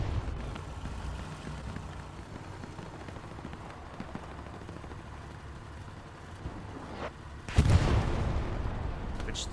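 A satchel charge blast in the WWII shooter Hell Let Loose during a competitive match, a sudden loud deep boom rising out of steady distant battle rumble and scattered gunfire near the end.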